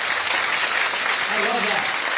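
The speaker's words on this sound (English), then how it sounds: "Let's give Grace a round of applause." Audience clapping for Grace, a 10-year-old girl, at a Republican voter town hall, a steady dense wash of applause filling the room throughout, with a voice briefly rising underneath.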